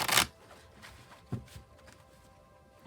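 Tarot cards from a Grand Lux deck being shuffled, a quick burst of riffling at the start followed by a few soft, close card flicks and taps in a quiet room.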